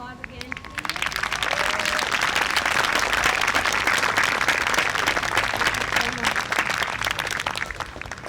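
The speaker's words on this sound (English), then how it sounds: "A round of applause again, please." Outdoor crowd applause at a Black Lives Matter rally in Seacoast, New Hampshire, rising within the first second into steady clapping from many people, with some voices mixed in, lasting about eight seconds.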